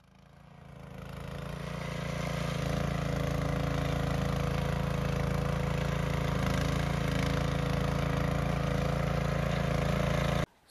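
A Sharp Garuda mini weeder's small engine runs steadily, its low rumbling drone building over the first couple of seconds and then holding even and loud until it cuts off at the end.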